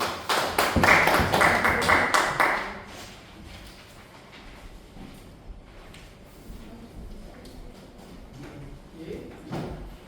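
Classroom applause from students, a burst of brisk, close clapping lasting a couple of seconds. It fades into quiet room noise and soft, indistinct voices.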